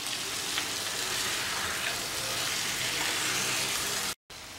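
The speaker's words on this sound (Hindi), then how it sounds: "चिकन और इस मसाले को हमने 3-4 मिनट लगभग बढ़िया मिक्सअप कर लिया है, भून लिया है" Chicken and cooked masala sauté in a pan for a chicken curry, giving a close, dense, even sizzle that carries on steadily, with one brief break near the end.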